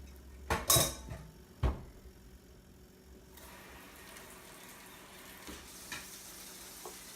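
A cooking pan is handled in a kitchen by a short cook working from a raised spot, giving two sharp metallic clanks early on, then quiet room tone with a few faint knocks.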